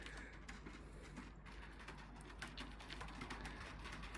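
Pigeons coo softly at a loft, faint low murmuring calls under a steady background hum, with occasional rustles and light taps, no clear speech.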